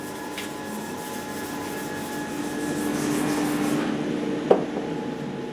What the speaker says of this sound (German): 4 Stunden, nichts als polieren.